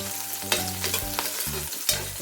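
Onions sizzle steadily in a pan before pork goes in, stirred now and then with soft scrapes. A low hum runs underneath, and no one speaks.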